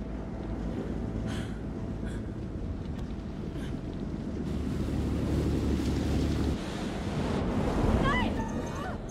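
Ocean waves and wind in the horror video game Man of Medan, a steady, full-bodied roar of surf and gusting air filling the whole stretch, with a few faint higher chirps near the end.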